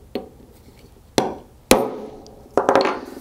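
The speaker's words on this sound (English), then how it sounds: "take your punch and drive the ball bearing so it's flush with the surface" Sharp metallic hammer strikes on a punch drive a ball bearing into an air port on a CivaControl II air control block: four distinct close blows spaced irregularly, the last followed by a short cluster of lighter taps, with no talking.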